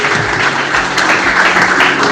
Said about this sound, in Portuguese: Você pode aplaudir Jesus mais uma vez